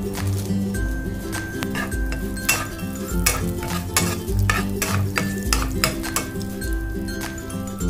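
Poppy seeds dry-roasting in a pan for date laddoos: a spoon scrapes and clinks steadily against the metal pan in a rhythmic stir, with a soft rustling sizzle underneath and no speech.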